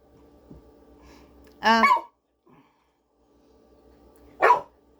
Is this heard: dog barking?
yes